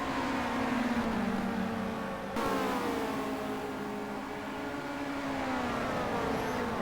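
Alfa Romeo and Opel touring cars racing at Monza in 1990, engines droning loudly and steadily with rising and falling pitch as they accelerate, with a brief shift in tone partway through.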